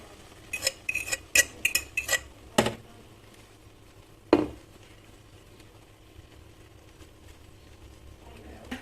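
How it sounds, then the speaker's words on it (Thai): A utensil spreads beaten egg in a frying pan, scraping and tapping in a quick run of clinks, then a single louder knock, with quiet in between. "เราเท ไข่เจียวของเราลงไปเลย เกลี่ยเกลี่ยให้เขาพอดีกระทะนะคะ"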